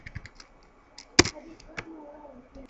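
A few scattered keystrokes tap on a computer keyboard while text is entered into a console, quiet and close with one sharper louder press in the middle.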